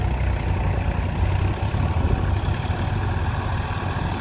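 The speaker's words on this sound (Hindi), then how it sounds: "ट्रैक्टर स्टार्ट हो गया, फार्म ट्रक" A Farmtrac 60T20 tractor engine idles steadily after starting, a continuous low diesel rumble that stays close and even throughout, with no voices.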